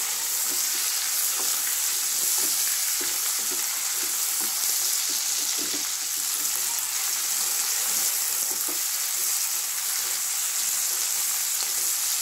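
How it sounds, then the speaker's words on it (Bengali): Chopped onion sautéing in a pan, a continuous steady sizzle and crackle close by, with faint stirring taps and no talk. "সতে করে নিচ্ছি"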